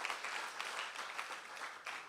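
Applause rises from a church congregation as a thin, distant wash of hands that stays faint and steady, with no voices above it.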